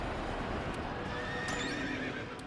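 A horse whinnies in the video game Nobunaga's Ambition: Awakening: one clear, drawn-out neigh over steady battle noise, with faint hoof clatter.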